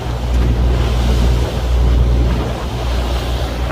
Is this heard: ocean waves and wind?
yes